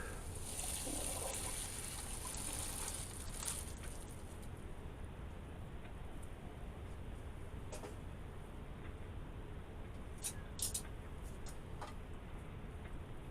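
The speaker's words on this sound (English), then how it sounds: "And then strain the noodles." Cooked spaghetti noodles are poured into a strainer in a home kitchen, a steady wash of draining water and trickling hiss running throughout, with a few faint clinks near the end.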